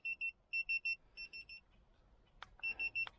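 A car's tire pressure sensor alarm, on a turbo Toyota Corolla, beeps high and electronic in quick bursts of three or four, pausing between groups, with a couple of sharp clicks near the end.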